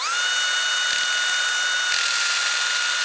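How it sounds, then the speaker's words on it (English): A power drill with a 5/32 bit whines at a constant high pitch through a metal hole on a milling machine, loud and close, running steadily without pause. "I'm just going to take this 5/32 drill bit and we're going to run it through that hole"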